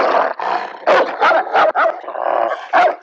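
A dog barks repeatedly in a movie scene set at a castle, sharp loud yaps coming in an uneven run of bursts with short gaps and faint whimpering tones between them, no voices over it.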